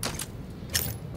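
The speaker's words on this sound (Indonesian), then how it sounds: "Baru main langsung isi peluru lagi." A gun is reloaded in the shooter game Arena Breakout, with two quick metallic clicks and rattles close up, the second a little louder, separated by a short pause.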